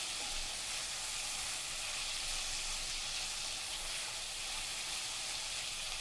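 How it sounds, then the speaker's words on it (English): Sliced white onions and green chilies fry in a pot, a steady, close, even sizzle and hiss that runs the whole time without pause or voices. "add the sliced white onions and the green chilies, and then fry them for around 3 to 4 minutes"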